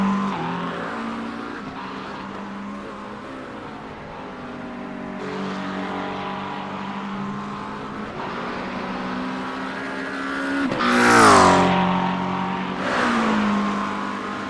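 GT3 race cars in a racing game thunder down the main straight, a continuous engine drone rising and shifting in pitch, with one car swelling loudly near the end as it roars past.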